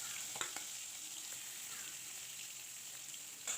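Rohu fish rubbed with salt and turmeric fries lightly in a pan, giving a soft, steady sizzle with a few brief spits and pops, fairly quiet and with no voices.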